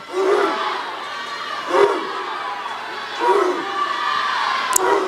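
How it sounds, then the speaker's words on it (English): A school cheering section about ten feet away at a girls' high school swimming sectional meet in Warsaw, chanting and shouting in rhythmic loud surges that repeat roughly every second and a half over a noisy crowded pool. "We've got the Warsaw cheering section about 10 feet away from us, so you're going to hear some of that"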